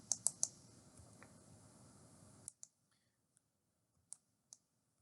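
Computer mouse clicks during a CorelDraw-style drawing-tool lesson: three quick sharp clicks over a low background hum, then a few sparse, crisp clicks in near silence.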